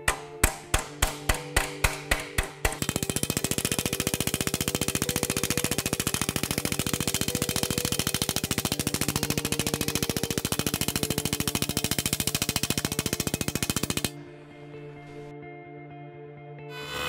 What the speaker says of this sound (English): I'm using a smooth flat dolly and a hammer with a small face to finish this corner.